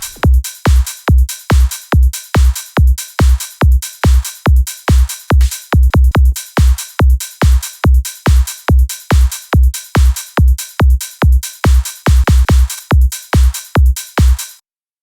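Short, punchy synth bass notes from a MIDI clip in Serum, chopped by a stutter edit effect into a fast, regular pulse of loud, identical hits with brief quick-fire stutters, clean and close with no talk.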